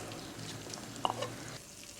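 Half a kilo of chicken hits hot biryani sauce and sizzles faintly, a soft crackling hiss with a few small pops and stirring sounds, quiet and close with no talking.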